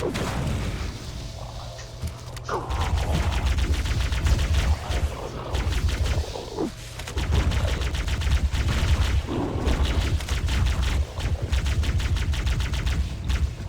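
Rapid, dense weapon fire from a plasma rifle in Halo: Combat Evolved, a level overrun by the Flood, with bursts chattering almost continuously at steady loudness and brief gaps between volleys.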